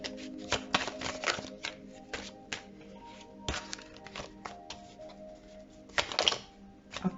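Tarot cards shuffled by hand before a draw, giving irregular soft riffling flutters and sharp taps of the deck, close and fairly quiet, with no talking.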